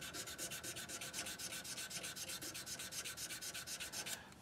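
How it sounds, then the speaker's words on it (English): Close, quiet hand sanding on a handmade brush to remove cross-sanding marks, a rapid, even back-and-forth rasp of about eight strokes per second that stops abruptly at the end, with no talking. "We're going to sand out the marks that we just did on a cross sand."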